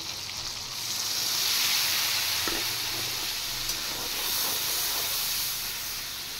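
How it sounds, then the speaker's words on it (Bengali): Cumin and coriander powder frying with tomato in a pan, a continuous close hiss and steamy sizzle that swells slightly and then holds steady. "জিরের গুঁড়ো আর ধনের গুঁড়োটা একটু ভেজে নিয়েছি"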